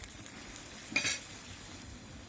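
Paella broth with rice simmers in a pan as it is gently stirred after salt goes in, a soft bubbling sizzle under a brief scrape of the utensil against the pan, close and quiet, with no voices.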